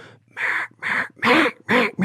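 A duck call blown by a person gives four loud, evenly spaced raspy quacks, each about a third of a second, close and alone.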